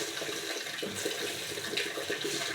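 Water pours steadily into a pan of frying dal and daliya with potato pieces, a continuous splashing gush close by with no talking.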